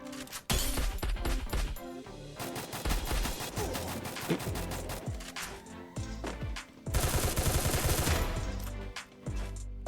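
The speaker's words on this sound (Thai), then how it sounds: "เอา ปืน อะไร มายิงวะกู" Heavy gunfire in the Free Fire battle royale game, with dense rapid bursts and repeated shots running almost the whole time, loud and close, with one louder barrage near the end.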